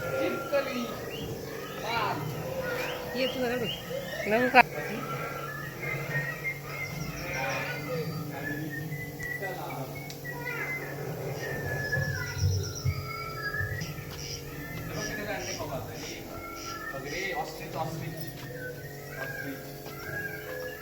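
Birds, parrots among them, call outdoors at an aviary bird park in Bhilar near Panchgani, their scattered chirps and squawks running under people chatting nearby.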